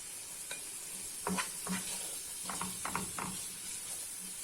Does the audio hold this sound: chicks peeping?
no